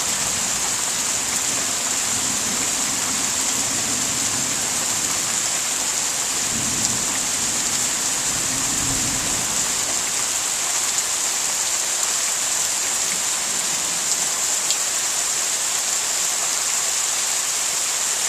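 Thunderstorm over Pittsfield, Massachusetts, with steady heavy rain hissing on surfaces and low rumbles of thunder rolling underneath, continuous throughout and nobody talking.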